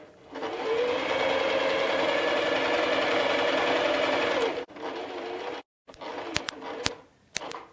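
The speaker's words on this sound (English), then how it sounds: "The machine will come down and stop when it's ready." A Cooper Pro Deluxe Mk II sewing machine stitches a buttonhole, a fast, steady, close mechanical whirr that stops after several seconds, followed by a short second burst and a few clicks.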